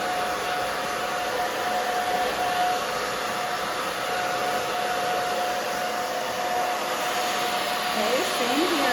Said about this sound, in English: So I have it on the high speed but medium heat on the blow dryer.